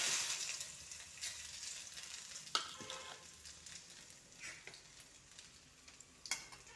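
Ginger frying in an aluminium pan on a stove, a soft, close sizzle that is louder at first, broken by occasional sharp clicks and scrapes as it is stirred, with no talking.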